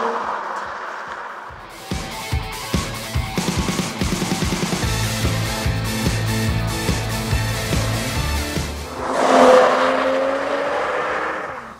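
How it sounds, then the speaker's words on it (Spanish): A 2023 Mercedes-AMG CLS 53 4Matic+ sedan is driven hard on a mountain road. The engine revs loudly through the gears, with sharp pops on the shifts, then a deep roar as the car accelerates and rushes close by. "este coche, a pesar de su talla, a pesar de sus kilos, pues me lo está poniendo bastante fácil en una carretera de montaña"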